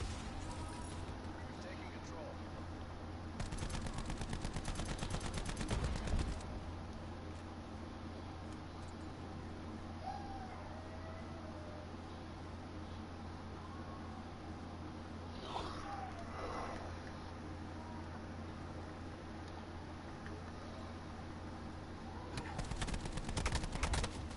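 Rapid gunfire bursts in a video game, loud and repeated across the clip, sitting under a constant hum of background game noise with a heavier volley near the start and another near the end.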